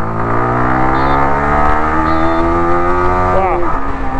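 A 2024 Yamaha R15 V4 motorcycle engine hums steadily on a city ride, a close, continuous droning note that shifts pitch near the end as the revs change.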